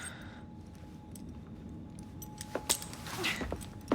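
Keys jangling as they are handed over in Assassin's Creed Syndicate, a few short metallic clinks near the end over a steady low ambient hum, fairly faint.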